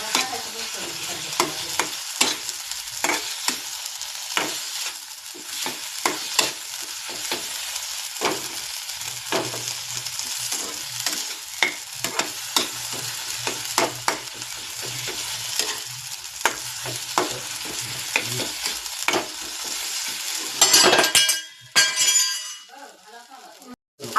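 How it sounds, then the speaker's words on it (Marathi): A vegetable dish fries in a pan under frequent, vigorous stirring, with scrapes over an ongoing sizzle, ending in a burst of clattering clinks. "आता याच्यात चांगलं आपण फ्राय करून घेतले"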